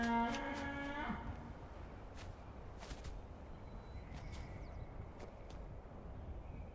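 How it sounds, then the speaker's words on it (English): A sheepsquatch creature in Fallout 76 lets out a loud, harmonic, lowing call over the first second, then gives way to ambient game noise with faint distant tones. "I heard a sheep squatch."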